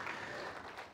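Church congregation applauding during a revival service, a steady wash of clapping filling the room for about a second without a break.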